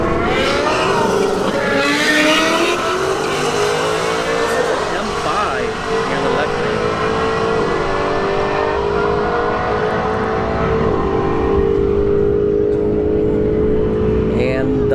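A Ford Mustang S550 on a drag strip roars at full throttle, engine pitch climbing through gear changes as it pulls away, loud and close at first then fading into the distance, with a voice talking over it.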